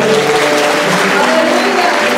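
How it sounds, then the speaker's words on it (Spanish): A church congregation applauds the Lord at a healing and freedom workshop. The clapping is loud and continuous, with voices or music tones running underneath. "Un aplauso al Señor."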